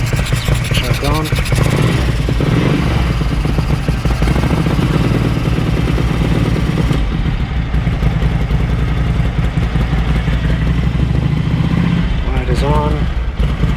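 A Ducati 900SS bevel-drive motorcycle engine with Dellorto carburettors runs with the choke on, a loud, steady, close rumble with rapid uneven clattering pulses throughout.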